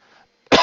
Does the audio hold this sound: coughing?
yes